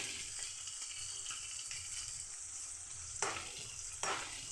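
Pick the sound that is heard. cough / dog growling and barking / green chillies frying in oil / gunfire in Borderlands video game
green chillies frying in oil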